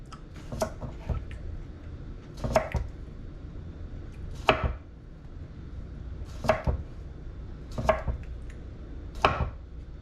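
A knife cuts thin slices of summer salad ingredients, likely cucumber, on a cutting board: about six crisp, evenly spaced thuds roughly every two seconds, close and clear with no talk.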